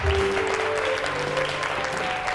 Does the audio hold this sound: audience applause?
yes